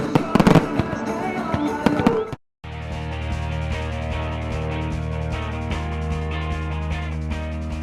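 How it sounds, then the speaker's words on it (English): Fireworks at the Maple Grove Days celebration on a Saturday night: loud crackling bursts and booms for about two seconds, then a brief silence and steady music. "Fireworks capped off Maple Grove Days on Saturday night."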